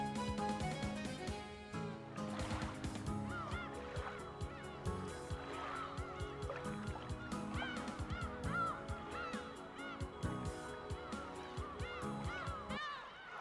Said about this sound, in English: The famous seagulls that go nya nya nya